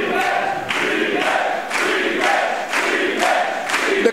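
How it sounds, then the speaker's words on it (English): A wrestling crowd at a live show chants in loud, rhythmic bursts for a rematch after the tag team title match, roughly one chant every half second, echoing through the venue. "The crowd is calling for a rematch."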